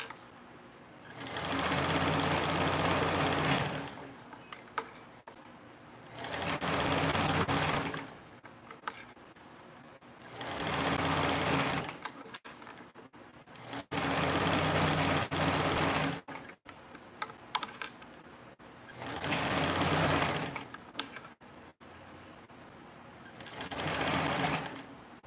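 A sewing machine stitches a seam at a three-eighths inch allowance in loud, steady bursts of rapid mechanical whirring, about six runs separated by short pauses with small clicks.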